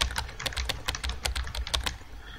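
Keys on a computer keyboard clack in quick, irregular bursts while playing the chat game Emily Is Away, close and crisp with no talking.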